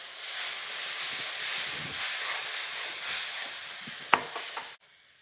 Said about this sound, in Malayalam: നല്ലപോലെ മുളക് പൊടിയൊക്കെ മൂത്തപ്പം വിനാഗിരി ഒഴിച്ചു കൊടുക്കും.